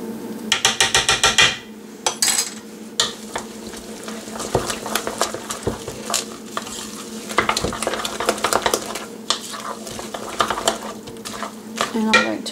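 Spoon stirring cornstarch through a chicken and leek patty mixture in a bowl, with steady scraping and clinking strokes, sharp taps of utensil against the bowl, and continuous close kitchen clatter.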